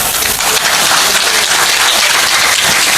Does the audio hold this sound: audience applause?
yes